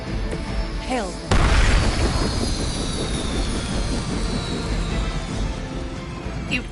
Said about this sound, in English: You've grounded the helicopter.